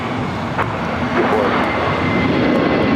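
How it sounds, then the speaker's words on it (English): Airplane taking off at Los Angeles LAX airport, a loud, steady roar of aircraft engines that fills the whole clip and holds at constant strength, nearby and close to the runway. "Cleared for takeoff."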